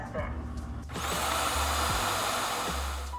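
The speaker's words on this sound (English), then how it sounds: "The vacuum station turns on and begins to suck out all the dirt that was captured inside the vacuum" A robot vacuum's docking station kicks on to self-empty the dustbin, its loud whooshing suction roar rising suddenly after a second of quieter background and holding steady to the end, with a voice talking underneath.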